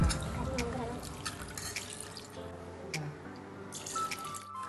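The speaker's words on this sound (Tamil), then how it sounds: "அதுக்கப்புறம் நான் 2 கிளாஸ் தண்ணி சேர்த்துக்கிறேங்க." Water splashes and trickles steadily into a pressure cooker with mutton, with clinks and drips, fairly close and continuous.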